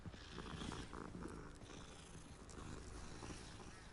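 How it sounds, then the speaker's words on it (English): A cat purrs in the video game Hogwarts Legacy, a steady low rumbling purr that runs throughout over background game sound. "Some fucking cat."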